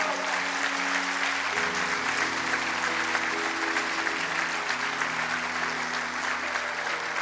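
A church congregation claps together, steady loud applause of many hands that continues throughout, with a low sustained tone of music underneath.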